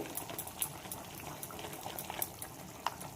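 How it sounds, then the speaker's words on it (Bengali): Tangra fish curry broth boils in a pan, a soft continuous bubbling with scattered small pops and crackles, fairly faint and close, with no talk over it. "দেখো ঝোলটা ফুটছে"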